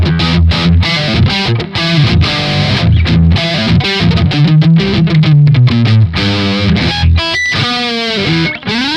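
Strat neck pickup played through a heavily distorted Triple Rectified EL34 amp profile. A loud, aggressive riff of tight palm-muted chugs and chord stabs runs in a busy, driving rhythm, ending with a couple of ringing notes.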